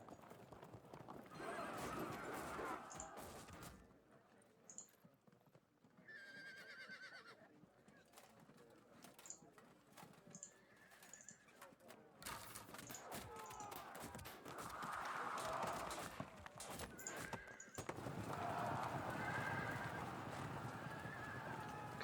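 Horses of light cavalry gallop with steady clip-clop hoofbeats and occasional whinnies in the Field of Glory II video game, joined by shouting and battle noise, loud and continuous throughout.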